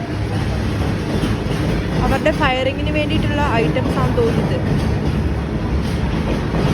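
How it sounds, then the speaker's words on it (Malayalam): A military train running on rails near Agra, a steady loud rumble of the moving carriages with faint rhythmic track noise underneath, while someone talks over it. "നമ്മുടെ പട്ടാളക്കാർക്ക് വേണ്ടിയിട്ട് മാത്രമുള്ള ഒരു ട്രെയിനാണ്"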